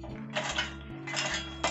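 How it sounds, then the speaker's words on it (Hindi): Fresh green chickpeas poured into a mixer grinder jar in a home kitchen, two close rattling bursts of hard little peas hitting the jar, separated by a short pause, over a low steady hum. "ये हम मिक्सी का जार ले लिए हैं और इसमें हम डाल देंगे चने।"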